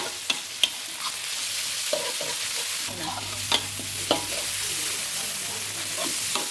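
Pork belly is stir-fried with pounded spices in a pan, making a continuous close sizzle broken by sharp clicks and scrapes from the stirring utensil against the metal.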